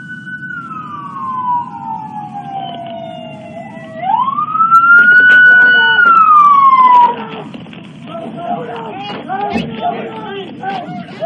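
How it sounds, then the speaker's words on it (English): A nearby police siren wails, sweeping down and then rising loud before falling away, over a rumbling engine and background noise, with voices heard toward the end. "You can clearly hear those sirens"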